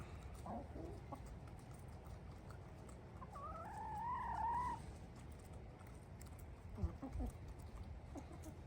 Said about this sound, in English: This is our problem chicken right here, Luis.